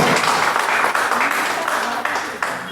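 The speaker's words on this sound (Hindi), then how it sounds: "एक बार जोरदार तालियां" Audience applause at a lifetime achievement award ceremony: a steady, fairly loud wash of clapping from a crowd that holds for the whole stretch, tapering only slightly at the end.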